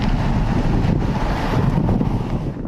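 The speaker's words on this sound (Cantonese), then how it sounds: "強風甚至推動行人。" Strong wind from Typhoon Koinu in Hong Kong in October 2023 roars and buffets the microphone in a continuous loud, rumbling rush, with no voices.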